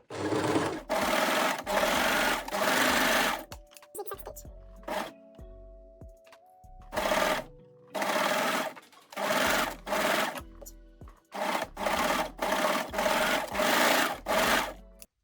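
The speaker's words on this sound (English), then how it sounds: "Sew the pieces together. I am using serger, but you can also use straight or zigzag stitch." A serger overlock machine stitches fabric pieces together in loud, rapid bursts of whirring, separated by brief pauses and soft handling noises, with one longer quiet stretch mid-way.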